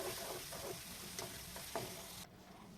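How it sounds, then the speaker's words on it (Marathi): Tomatoes frying with onions in a pan, giving a steady close sizzle with a few soft stirring scrapes before the hiss drops away near the end, no speech. "आता आपल्याला इथे टमाटर टाकून घ्यायचे आहेत टमाटर टाकल्यानंतर या टमाटरांना सुद्धा छान असं परतून घ्यायचं आहे"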